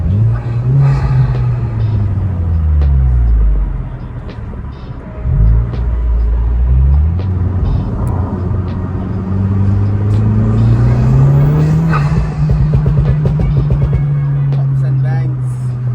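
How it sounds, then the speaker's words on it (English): A car at a JDM car meet revs hard with a deep, fluctuating engine drone that rises and falls, punctuated by crackling exhaust pops and bangs, while people talk nearby. "Pops and bangs. Gets it every time."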